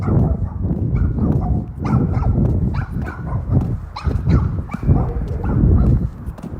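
Several dogs barking repeatedly and overlapping at close to mid distance, a rapid irregular chorus of yaps with a few whimpers running throughout.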